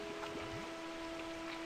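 Rain falls in a farming and slime-ranching video game as a steady soft patter and hiss, with light droplet ticks over a constant background wash and a sustained tonal hum, all at an even level with no one speaking.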